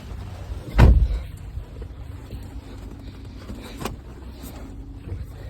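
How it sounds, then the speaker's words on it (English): A pickup truck door swings shut with one loud, close thud, followed by a quiet idle and faint knocks as someone settles back into the cab before loading a roll-off container during a thunderstorm. "I'll get back in the truck."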